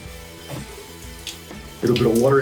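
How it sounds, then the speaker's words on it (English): Tap water runs into a shaving brush during a bowl lather, a steady trickle that swells into a louder, fuller splash near the end, heard close by. "A little bit of water into the brush."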